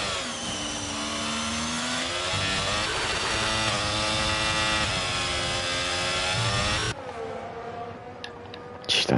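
A racing car engine in a racing video game at a virtual Australia circuit, a loud droning whine with a glitchy, buzzing, stuttering pitch, continuous until it abruptly drops, then fainter engine noise and a couple of bursts at the end.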